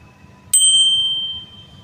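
A single bright bell ding rings out clearly and sustains for about a second before fading, over a quiet background hum.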